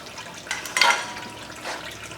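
Oil draining from the transmission of a 1955 Pontiac Star Chief with a 287 V8, heard as a faint, uneven liquid trickle and splash in a quiet workshop, with a brief louder gush in the middle.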